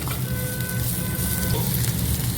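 Chopped ginger sautés in a pan for palak paneer, a soft continuous sizzle with low rumbling underneath, steady and close without voices.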